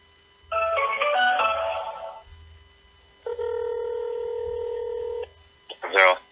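A telephone being dialed before a call to a fan reporting on an MLS stadium: a run of rapid keypad tones, then a long steady ringback tone, and a short burst of sound at the end.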